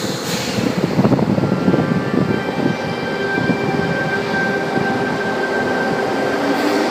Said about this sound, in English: Front half now departing platform number 11 on to Bondi Junction